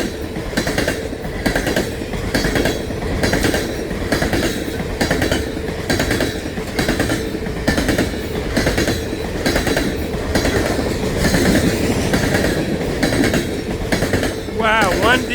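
A long coal freight train rolls past close by, with a steady rhythmic clickety-clack of wheels over rail joints and a loud rumbling that holds throughout.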